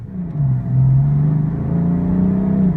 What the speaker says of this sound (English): Very fast acceleration